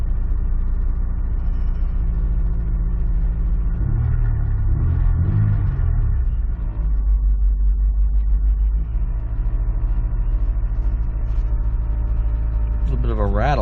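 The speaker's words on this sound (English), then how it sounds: "A little bit of a rattle." A Honda S2000 engine idles with a faint rattle, giving a steady low, close rumble that holds throughout. A brief swell comes midway, and a rising whine appears at the end.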